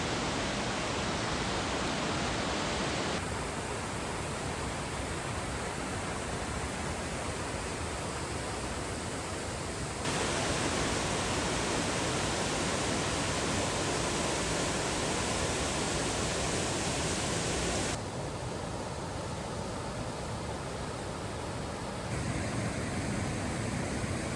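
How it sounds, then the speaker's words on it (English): The Great Falls waterfall on the Appalachian Trail, at an old dam and ironworks foundation, sends up a dense, continuous rushing roar, loud and close, its character shifting abruptly a few times as though heard from slightly different positions. "These are called the Great Falls."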